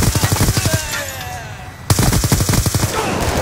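Rapid automatic gunfire in a Call of Duty multiplayer match, loud close bursts of evenly spaced shots, a brief pause, then another long burst.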